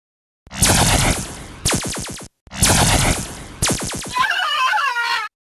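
Laser gun sound effects burst out in loud, close synthetic zaps, rapid stuttering pulses in two volleys with a brief gap, the last one warbling and wavering before cutting off.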